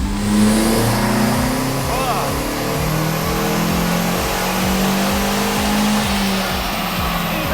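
A turbocharged Toyota Yaris fitted with a cheap eBay turbo revs hard on a dyno, the engine roaring loudly and steadily, its pitch climbing as the run builds, while people cheer and talk over it.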